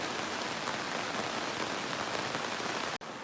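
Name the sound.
heavy rain falling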